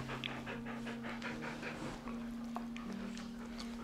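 Several excited huskies pant heavily and quickly indoors, close by and steady all the way through, with faint sniffs and snuffles mixed into the rapid breathing.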